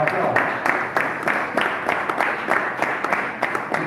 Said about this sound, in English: I want you all to give him a nice resounding round of applause.